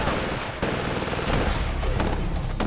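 Rapid automatic pistol fire in Titanfall, a dense burst of shots in a loud, busy firefight with sharp cracks standing out near the end.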